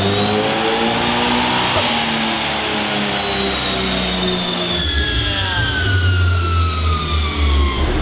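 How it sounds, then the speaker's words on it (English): A built, high-compression turbocharged 1.6L engine roars at full load on a dyno, its pitch climbing steadily with a whining turbo before the revs drop off into a lower rumble. "Oh, this little turbo's doing work."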